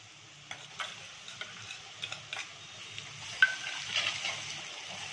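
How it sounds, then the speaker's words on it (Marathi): Ginger-garlic paste is sautéed with fried onions in a pan, giving a low sizzle under a series of sharp spatula taps and scrapes that come in an uneven rhythm. "आता घालणार आहे लसूण आल्याची पेस्ट"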